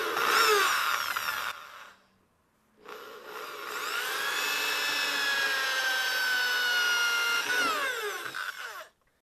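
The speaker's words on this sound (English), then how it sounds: "I like to drill a little pilot hole." A power drill bores pilot holes into the spot welds of a Jeep Wrangler TJ cab corner, whining steadily in two close, loud bursts with a short pause between them, no talking.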